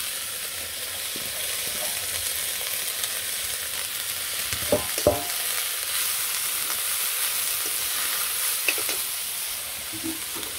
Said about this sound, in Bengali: অল্প কিছু পেঁয়াজের মধ্যে সব ঢেলে দিলাম সবজিগুলো